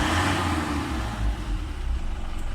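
Isuzu Crosswind engine running after a hard start, a low steady idle rumble close by and moderately loud, with no voices.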